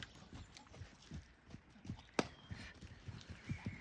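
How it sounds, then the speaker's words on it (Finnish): Quiet hoofbeats of a young horse cantering in a circle in an arena come from some distance, in a rhythmic clip-clop pattern with a faint thud or two. "laukkaa yksi ympyrä"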